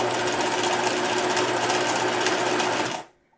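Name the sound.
sewing machine stitching a pillow seam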